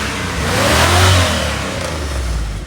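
A 350 V8 in a Chevrolet Monza, fitted with a muffler, revs up in one swelling, throaty pull and eases back down. The sound is close and fairly loud with no talk.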